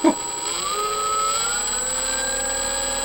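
The electric motor of a Max Thrust Ruckus RC plane whines after a sharp click, its pitch sliding up and then holding a steady, loud, high hum close by.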